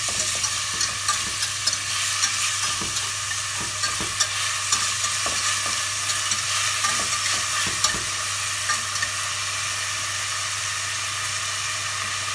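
Lasagna ingredients whisked together in a pan, giving a steady busy scraping and stirring texture with a hiss, close and continuous without talk.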